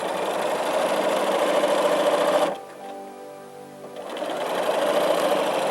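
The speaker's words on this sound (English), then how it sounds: "I'm just going to stitch the seam down" A sewing machine runs steadily, stitching a quilt fabric seam with a pressing buzz, stops briefly for about a second and a half in the middle, then resumes at the same close, even pace.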